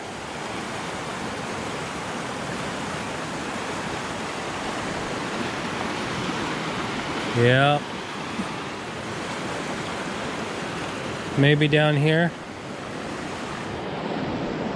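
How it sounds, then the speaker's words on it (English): Rushing water from a fast-flowing river in Azusa roars steadily and loudly throughout, with two short bursts of talk rising briefly above the constant churn. "the river is flowing super fast"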